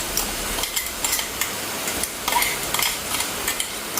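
Ginger garlic paste sautéed in oil for chicken curry, giving a soft continuous sizzle with intermittent spatula scrapes against the pan, close up and without any talking.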